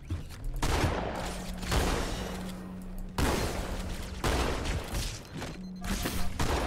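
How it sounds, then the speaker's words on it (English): Shotgun blasts in Halo 2 gameplay, several loud booming shots spaced across the stretch with a low hum between them. "Are you making me waste all the shotgun ammo?"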